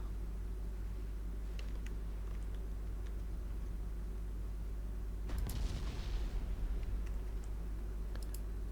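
Naval guns fire at a destroyer during a night fight in Ultimate Admiral Dreadnoughts, with one heavy boom rising out of a constant low engine drone, plus a few faint interface clicks.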